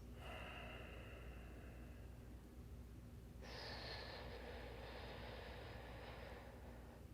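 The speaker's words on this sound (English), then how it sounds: "And then exhale that warm air out through the nose." During a yin yoga breathing exercise, warm air is exhaled slowly through the nose. The breath is soft, steady and airy at low volume, with no speech over it.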